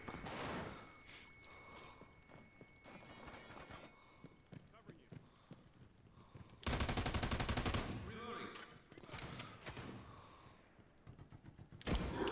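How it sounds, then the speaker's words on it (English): Shotgun fire in the America's Army: Proving Grounds video game: sharp, loud blasts in bursts, with a dense sustained volley midway and another blast at the end, set amid game noise and muffled talk. "Oh, shotgun."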